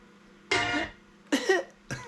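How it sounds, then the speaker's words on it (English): Three short, breathy coughs from a woman in a music sample, in succession over a soft, sustained low tone, the second one a double hack. "there's I think it's a woman that coughs or cries"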